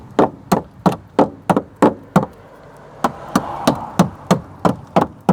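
A knocking stick strikes the rusty sill of a barn-find Proton Saga Iswara in about fifteen sharp, loud knocks, first quick and evenly spaced, then after a brief pause resuming over a rougher, hollower background.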